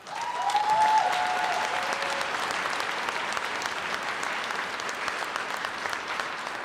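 Sustained applause from a large crowd, loudest at the start and then holding evenly, with a brief whoop or whistle near the beginning.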